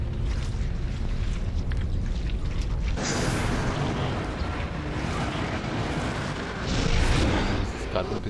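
Gunfire in The Darkness video game arrives as dull heavy booms over a windy, rumbling game backdrop, loud and dense once it starts partway through.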